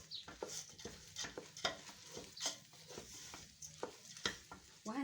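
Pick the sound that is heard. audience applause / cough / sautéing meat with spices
sautéing meat with spices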